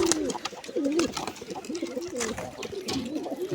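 Pigeons, including young birds, coo close by in soft, throaty, overlapping warbles that run continuously through the whole stretch.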